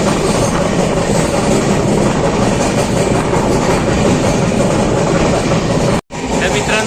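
The Mandovi Express between Dadar and Chiplun in the Konkan rumbles loudly along the rails, heard from on board, with a steady roar and rhythmic clatter of wheels, broken by a short cut near the end.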